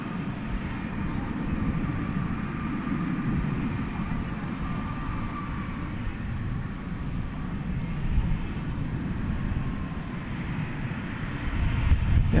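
A Finnair airliner departs DFW Airport at night, a steady low broadband jet rumble holding throughout at moderate distance, with a high thin engine tone above and faint voices in the background.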